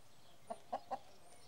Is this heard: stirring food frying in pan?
no